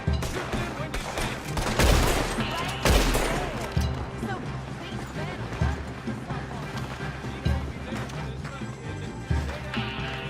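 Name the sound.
gunfire in the video game Red Dead Online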